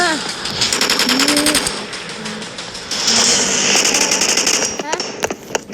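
Video game gunfire: rapid bursts of automatic shots crackle in quick rattling strings, with game sound effects and a voice mixed in.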